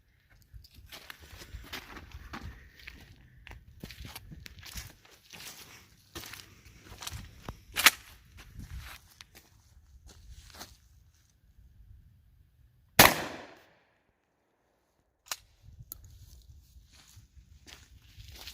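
A Weatherby Reaper 12 gauge tactical shotgun fires buckshot in a few sharp, loud reports spaced several seconds apart, amid shuffling handling noise and rustles at close range.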